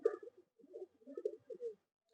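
A Madrasi pigeon coos in a string of soft, low rolling phrases, close and fairly quiet, with short pauses between bursts and no voices.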